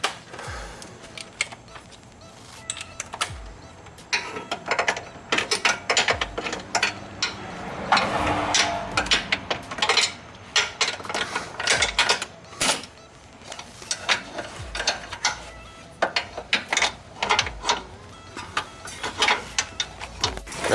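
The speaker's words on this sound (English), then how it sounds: "I'm taking the last bolt out of the subframe, so it should just kind of drop." Ratchet clicking steadily as the last subframe bolt comes out on a BMW M54 engine, rapid close ratcheting strokes in repeated bursts with brief pauses throughout.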